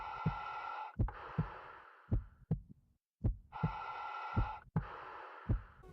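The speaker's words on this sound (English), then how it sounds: "if you enable the silent mode, you will hear almost nothing except your breathing and heartbeat." Slow, muffled heartbeat thumps paired with heavy breathing, alternating in-and-out breaths between steady beats, heard close and alone in silent mode in the space shooter game Shattered Horizon.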